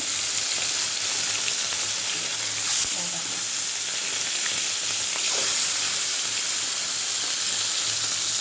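Kalbaush fish fries in a pan with a loud, dense, continuous sizzle close by, a brief clatter near the middle and no voices.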